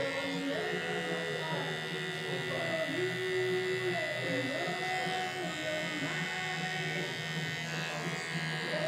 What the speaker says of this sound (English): now with my Andis, just gonna go around the edge of the haircut and just sharpen everything up